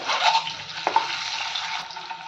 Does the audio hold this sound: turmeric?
yes